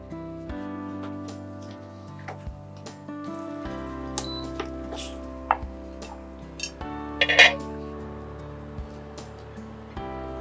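A white plate is set down in a home kitchen for oil-chilli hilsa (tel jhal ilish), giving a few light ceramic clinks and knocks over steady background music.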